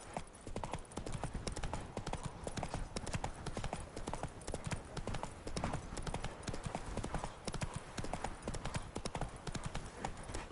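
Steady clip-clop of a horse's hooves from The Witcher 3, the rider's mount Roach trotting in a continuous rhythm, fairly close and even, with faint ambient game sound beneath and no talk.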